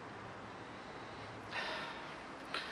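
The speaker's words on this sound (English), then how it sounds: "let's have a sniff" A person sniffs a glass of pale, lager-like craft beer from Cairngorm Brewery, two short, soft nasal inhalations against quiet room tone.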